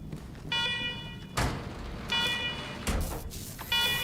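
A Wasteland 3 game alarm blares in repeated electronic bursts, each a bright tonal wail lasting under a second with short gaps and sharp hits between, steady and fairly loud with no talking.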